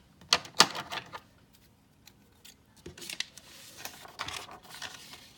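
Scissors snip through a paper template in a few sharp, close cuts, followed by softer rustling and crinkling of the paper as it is handled, with quiet gaps between sounds.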